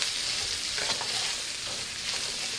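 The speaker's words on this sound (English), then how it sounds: "I'll put the onions all right in there and just saute it for a couple of minutes till it gets soft" Onions sautéing in a pan for shepherd's pie, a continuous close sizzle and crackle with faint stirring movements, no voices.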